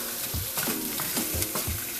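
Szechuan steak sizzling in a pan as a stir fry, a steady close sizzle with a few rhythmic stirring scrapes, no voices.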